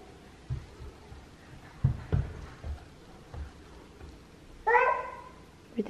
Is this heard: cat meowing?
yes